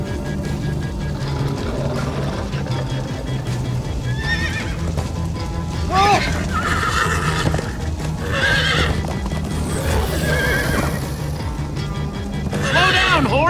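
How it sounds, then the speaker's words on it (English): Horse whinnies and galloping hoofbeats from the Minecraft Story Mode video game, with repeated neighs over a steady clip-clop of hooves and background game music, under occasional voices. "Slow down, horse!"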